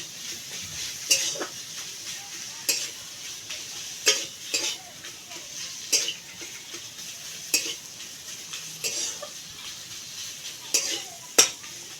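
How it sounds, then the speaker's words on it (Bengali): Mashed potato and onion are stirred in a pan with a spatula, giving repeated scraping clinks against the metal at an irregular pace of roughly one per second over a soft background sizzle. "ভালো করে নেড়ে চেড়ে দিচ্ছি পেঁয়াজের সঙ্গে আলুটাকে।"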